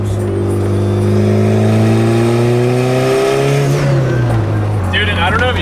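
A turbocharged car engine with aftermarket turbo parts holds a steady drone while cruising, with a rising and falling whine and a brief high hiss near the end, under continuous talk.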